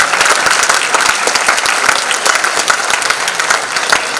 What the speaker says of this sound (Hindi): एक बार और जोरदार तालियों से उनका अभिनंदन किया जाए